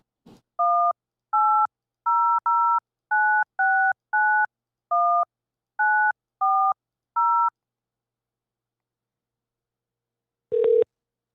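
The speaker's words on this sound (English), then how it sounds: "but I'm making a phone call." Touch-tone keypad dialing while placing a phone call: about a dozen crisp, close dual-tone beeps in an uneven rhythm, then a pause and one longer, lower tone.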